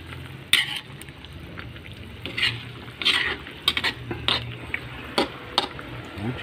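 Pork sinigang stirred in a pot: soft scraping and sloshing of a utensil through the simmering broth, with intermittent clinks against the pot over a low bubbling hiss.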